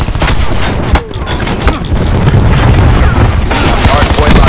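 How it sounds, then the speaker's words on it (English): Chaotic Call of Duty: Black Ops 4 combat with cluster grenade blasts and rattling gunfire, loud and dense throughout, with overlapping booms and a game announcer voice mixed in. "Cluster grenade going out."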